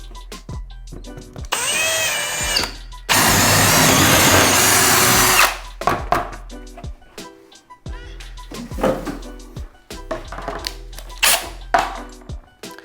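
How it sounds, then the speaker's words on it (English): A power drill with a 1/4 inch bit bores a mounting hole into a wall for a TV mount, two loud sustained bursts of whining then grinding, followed by scattered knocks and handling clatter. "So we're gonna go ahead and drill the top hole"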